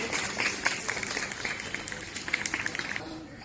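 Applause from an audience at a government school event in Manimajra, Chandigarh, for National Voters' Day: a dense, steady patter of many hands clapping at moderate volume, with some voices underneath.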